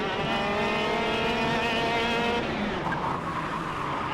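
Kart racing in the sim game Assetto Corsa Competizione: a loud, steady high-pitched engine whine with harmonic drone and tyre squeal through the corner, continuous and close, no talk.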